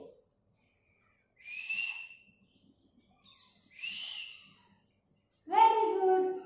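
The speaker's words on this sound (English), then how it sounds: "I do whistle with my lips." A young child whistles with the lips in a kindergarten lesson, making a few short breathy whistles separated by silence, followed by a brief louder voiced note.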